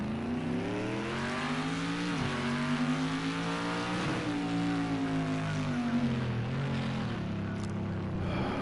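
A GTE race car in the Project Cars 2 racing game holds a steady, buzzing engine note on the pit lane speed limiter, close and alone, with slight pitch dips and rises as the limiter cuts in.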